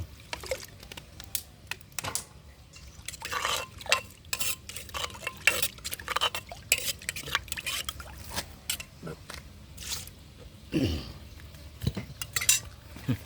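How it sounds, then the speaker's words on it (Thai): A stone mortar (khok) is rinsed out with water, giving close, irregular clattering knocks and scraping strokes of stone and utensil, moderately loud, with no speech. "นี่ครับปั๊บน้ำล้างคกสักหน่อย"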